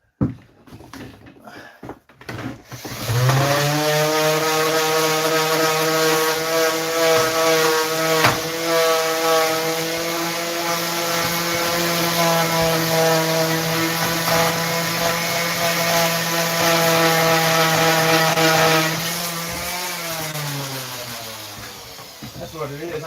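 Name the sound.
power sander polishing a wooden stager board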